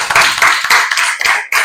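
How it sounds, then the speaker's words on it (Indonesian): A few people clap in short bursts for a student in a classroom, loud and close, with brief gaps between the runs of claps. "Tepuk tangan untuk Aisyah."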